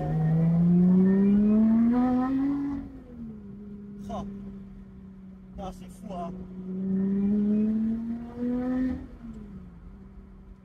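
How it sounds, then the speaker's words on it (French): A Lotus Exige 410S with its roof removed accelerating, the engine and exhaust rising in a strong droning roar through the gears with pitch climbing, dipping and climbing again, close by, while someone speaks briefly over it. "Vraiment, déjà l'échappement qui sonne super bien."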